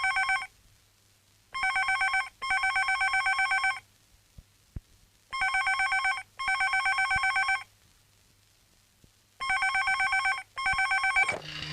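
A telephone bell rings in three loud bursts, each a pair of rapid electronic trills separated by silence, clear and close in a quiet room.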